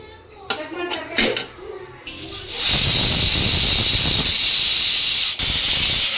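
After a few clinks of metal, a pressure cooker on a gas stove releases a loud, steady hiss of escaping steam that keeps blowing without pause.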